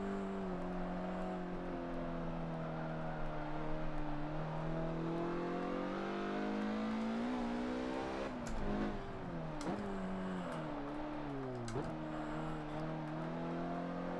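Mazda MX-5 race car lapping a circuit in Forza 7, its engine droning steadily with rising and falling revs, brief dips and sharp shifts between gears around the middle and later, loud and close throughout.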